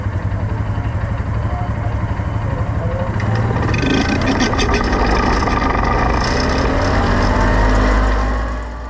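A sprint car engine fires up behind a pusher vehicle and roars loud and close, the rumble climbing and building in intensity before easing off near the end.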